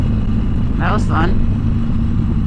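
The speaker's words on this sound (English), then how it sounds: "And that's what motorcycles can do. A twist of the throttle." A motorcycle on the road to a highway, its engine a steady loud rumble heard from the rider's position as the throttle is twisted, with wind noise throughout and a voice speaking briefly over it.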